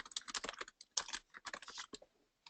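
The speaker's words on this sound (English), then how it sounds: "Just typing a response for someone to email me this question so we can follow up later." Rapid typing on a computer keyboard during a DevOps software webinar, uneven clusters of close, crisp key clicks with short pauses between bursts.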